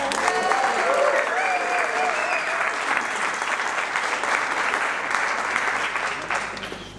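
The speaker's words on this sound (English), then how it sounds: "Can we please give a huge cheer and welcome to John Bostock." An audience applauds and cheers to welcome John Bostock to the stage at an evening talk, steady clapping with some whoops lasting several seconds before fading slightly at the end.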